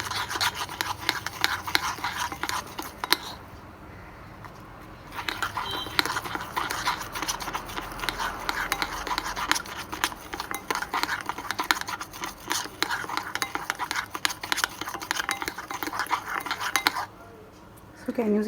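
Dalgona coffee mixture being whisked by hand in a cup, a rapid, close scraping and rattling that runs continuously with two short pauses.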